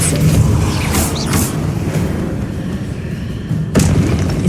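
Heavy magical boom of the Depulso force spell striking in Hogwarts Legacy, a few loud blasts with a sharp burst near the end over a constant rumbling game backdrop.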